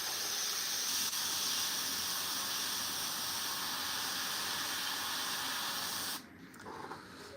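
An airbrush sprays paint onto a Warhammer miniature in one long, steady hiss up close, then cuts off sharply near the end, leaving quieter small sounds.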